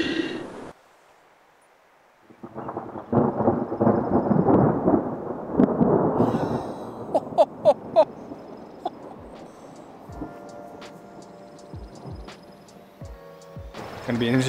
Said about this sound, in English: That'd be our first summer thunderstorm in the van.